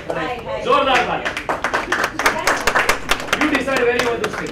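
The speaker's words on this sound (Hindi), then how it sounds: "जोरदार तालियां।" At a television show launch press conference, the crowd bursts into lively clapping, crisp individual claps close by, while people keep speaking over the applause.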